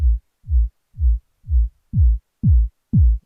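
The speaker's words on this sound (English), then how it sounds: "if I push it to the left of center, we can hear that it kind of sweeps in" Seven low synth pulses from a Korg ESX-1 repeat evenly, each note gaining a brighter edge as a filter opens up across the sequence, no voices.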